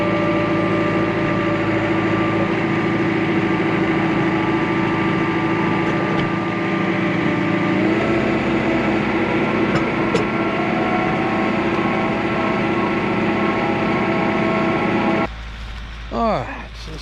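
A tractor engine runs steadily while its bucket lifts a whitetail deer, a loud continuous idling drone with faint clanks, cutting lower near the end as someone briefly speaks over it.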